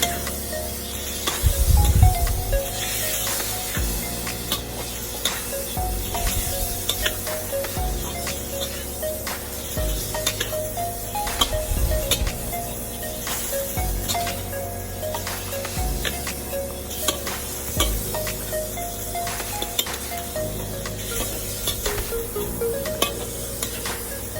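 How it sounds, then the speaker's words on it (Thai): Squid stir-fried in a hot pan for Thai dry suki, a continuous sizzle broken by repeated scraping and clattering strokes of the spatula as the pieces are tossed and stirred. "เราก็จะใส่ปลาหมึกลงไป ลงไปผัดเลยแบบคนๆ ให้มันเข้ากันนะคะ"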